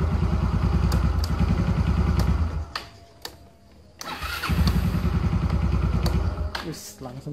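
A Yamaha Xeon 125 motorcycle engine starts and idles steadily after a battery replacement, loud and close with a brief drop in the middle, then settles back into a steady idle throb.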